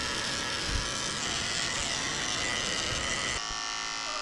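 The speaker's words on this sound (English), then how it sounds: "I'm shaving the pads of her feet out with a 40 blade" Electric dog clippers fitted with a 40 blade shave the paw pads of a Bichon Poodle mix, a steady close buzzing hum that holds level before suddenly dropping away near the end.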